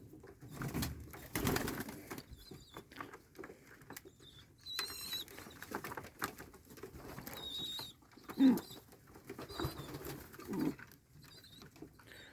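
Soft pigeon coos come in short bursts inside a dovecote amid quiet shuffling, rustling and fluttering, with an occasional brief flap or bump nearby.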